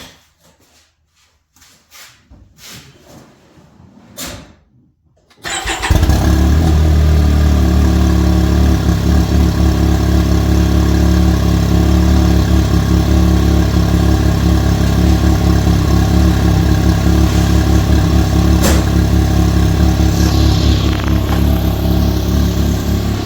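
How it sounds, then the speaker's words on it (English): A 2023 Can-Am Maverick XDS Turbo RR side-by-side cold-starts after a few seconds of quiet clicks, then settles into a loud, steady, rumbling turbo idle that continues unbroken. "here's a cold start of the Maverick Turbo Auto"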